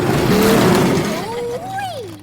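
An animated race car's engine revs without a silencer, a loud rough roar that rises into a climbing, wavering whine and then fades.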